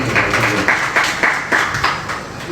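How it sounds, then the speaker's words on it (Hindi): Applause for poet Kartik Sharma at a Hindi Day poetry gathering, loud clapping from a small audience with a few stronger rhythmic claps standing out in a quick pulsing pattern. "एक बार जोरदार तालियों से उनका अभिवादन कीजिए।"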